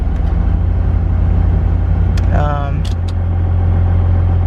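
A Cummins 12-valve diesel truck engine idles steadily after an idle adjustment, a constant low rumble throughout with a brief higher rev-like whine midway and a faint metallic jingle near the start.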